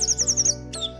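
An orange-headed thrush (anis merah) sings a quick run of bright, high chirps in a rapid repeating rhythm, then pauses and gives one more descending note, close and clear.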